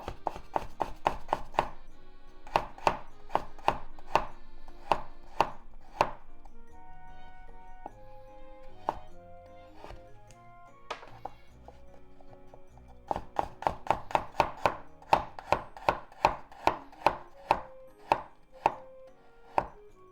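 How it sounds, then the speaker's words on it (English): Knife rapidly mincing garlic on a cutting board, sharp rhythmic chops in quick bursts with a pause midway, close and clear, with no talking. "And garlic. Let's just mince them too."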